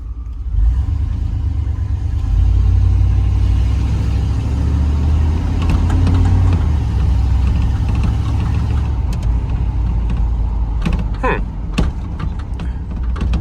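A 1991 Chevy Silverado OBS pickup being tuned up, engine rumbling steadily as it drives around the block, loud and close with a low drone, and a few clicks and rattles near the end.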